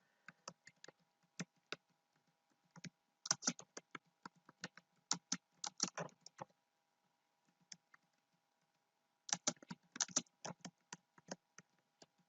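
Bursts of typing on a computer keyboard, with quick clustered key clicks separated by short pauses, close and fairly quiet, while a contour surface is set up in design software.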